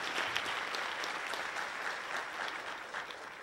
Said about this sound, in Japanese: 改めて根口さんに、拍手をお願いしたいと思います。